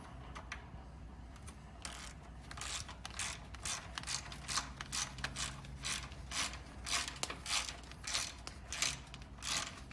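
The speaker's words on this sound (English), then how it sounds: "You now have your torque wrench set to 75 Newton meters." A torque wrench ratchets as it tightens a shock absorber bolt, a steady series of sharp rhythmic clicks close up, growing more regular over the span, with no talk.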